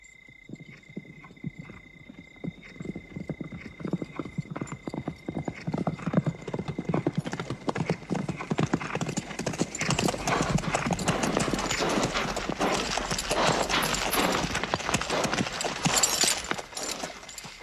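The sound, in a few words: horses galloping and neighing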